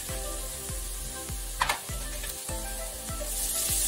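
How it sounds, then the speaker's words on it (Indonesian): Chopped garlic fries in oil in a frying pan with a bright, close sizzle, while regular low thumps and a few sharp clinks, like a spatula stirring, sound through it, with no voices. "lalu tumis bawang putih yang sudah dicincang tadi sampai wangi dan"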